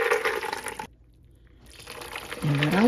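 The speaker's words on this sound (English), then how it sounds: "So I'll take the bowl and I'll pour it in the colander." Cooked black-eyed peas and their water pour from a bowl into a colander in a kitchen, a rushing splash that stops, then a trickle building back into a steady pour, close and moderately loud.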